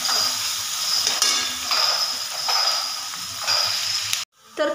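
Onion sizzles and fries in a pan for matar paneer, a steady bright crackle with the rhythmic scrape of stirring, ending in a sudden cut to near silence.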